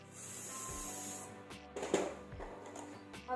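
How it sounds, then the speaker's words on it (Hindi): Hair spray hisses from a can onto back-combed, bouncy hair being styled into a bridal puff: one steady, bright burst lasting about a second and a half, then quieter handling noises. "स्प्रे का भी यूज़ करना है।"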